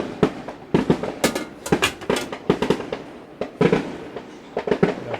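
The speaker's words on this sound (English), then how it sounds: "You can hear the fireworks." Fireworks bursting on the 4th of July, a rapid, irregular series of loud sharp bangs and crackles repeating throughout, close and dense with no voices.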